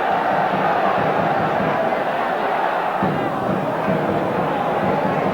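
Football crowd at a 1975-76 QPR versus Manchester United match cheering after a goalkeeper's save, producing a dense, loud roar of many voices that stays steady and fills the whole stretch.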